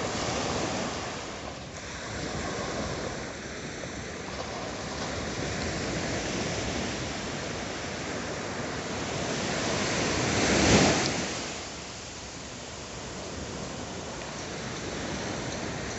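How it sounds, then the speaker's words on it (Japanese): Ocean surf rolls onto Waikiki Beach at night, a continuous broad wash of breaking waves with one louder surge swelling and fading near the middle, mixed with light wind. "15秒ぐらい波の音聞いてください"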